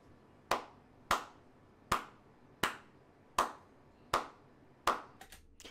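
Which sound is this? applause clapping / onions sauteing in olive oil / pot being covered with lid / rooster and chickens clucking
applause clapping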